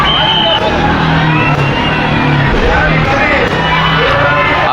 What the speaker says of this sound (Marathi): गणित गर्दी आहे प्रचंड गर्दी आहे अहिल्यानगर या ठिकाणी